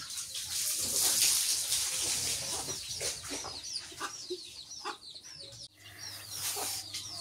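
Hens and chicks cluck and peep close by, with repeated short calls over a rushing, watery background, ending with a low hum toward the close.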